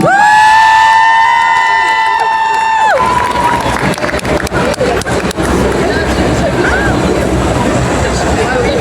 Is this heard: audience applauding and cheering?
yes